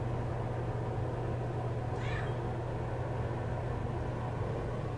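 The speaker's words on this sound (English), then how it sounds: "he often will talk to you with little baby meows" A single short meow from an adoptable cat rises faintly once, partway through, over a steady low hum and background noise.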